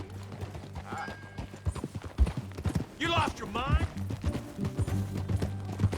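Hooves clip-clop steadily under conversation in Red Dead Redemption 2, with a horse snorting or whinnying briefly in the middle as people talk over the trotting.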